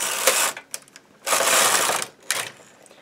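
A knitting machine carriage runs across a row of 2x1 latch ribbing, producing two loud rushing sweeps with mechanical clacks between them, close and without talk.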